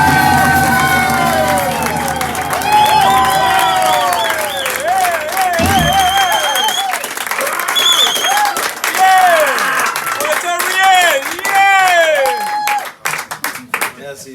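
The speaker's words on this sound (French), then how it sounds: "quand vous applaudissez comme vous venez d'applaudir" Audience clapping and cheering fills the room while a voice speaks over it, the applause thinning out toward the end.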